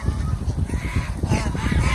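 Geese at a goose farm honk loudly and continuously, a close, dense chorus of overlapping calls filling the whole stretch.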